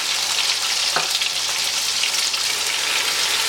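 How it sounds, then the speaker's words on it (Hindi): Sliced onion and a ginger-garlic paste fry over a high flame for Nargisi chicken, producing a loud, dense, hissing sizzle that stays constant throughout, close up, with one brief knock near the start. "प्याज को, अदरक लहसुन को इतना फ्राई करना है हाई फ्लेम पर"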